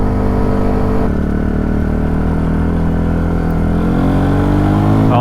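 A 2010 TGB Blade 550 SL 4x4 quad's engine runs loud and close with a steady, throaty drone, its pitch shifting slightly as the throttle changes.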